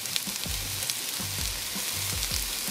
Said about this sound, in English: Add the karapillay or the curry leaves.